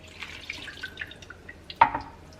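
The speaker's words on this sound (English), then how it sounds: "We're going to add the half cup of lime juice" Lime juice pours into a cucumber, lime and mint agua fresca, a faint patter of small drips followed by one sharper splash near the end.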